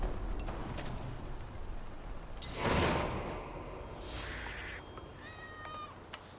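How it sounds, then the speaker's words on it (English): A big cat in the Assassin's Creed Valhalla video game makes a faint growling snarl midway, then a few short high mewing calls near the end, all over quiet ambient game sound. "That's a big cat."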